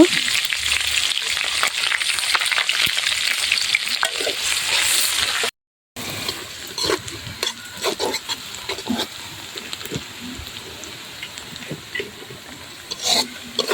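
Cumin seeds and onions frying in hot oil in a wok on a stove, a steady close sizzle with crackles and occasional stirring scrapes, briefly cut by a gap midway.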